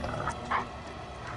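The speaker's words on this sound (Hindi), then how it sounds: "वो कुत्ता।" A dog, seemingly frightened, gives a brief whimper and a short yelp over a low background rumble in a tense, dark setting.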